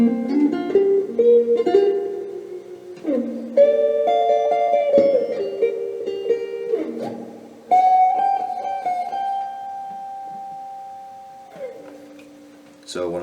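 Unaccompanied electric guitar playing a song's solo: a close, solo line of bends, slides and sustained ringing notes, with quick phrases giving way to long held tones that slowly decay.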